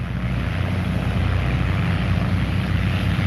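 Biplane engines droning steadily at a Carson City air race, a continuous loud low rumble that holds without a break throughout.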